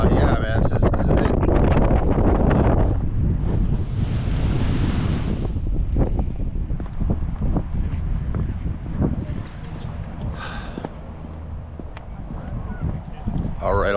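Strong wind gusting at the top of Stone Mountain, Georgia, roaring and buffeting steadily across the whole stretch, loud and close, with a voice speaking early on.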